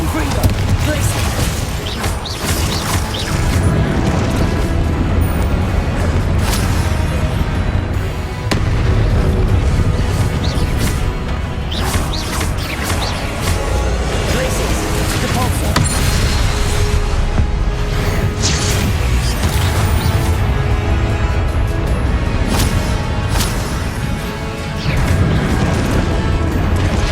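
Spells such as Confringo blast and crash in a Hogwarts Legacy battle, loud repeated impacts and booms layered over busy combat noise and music with short spoken spell calls.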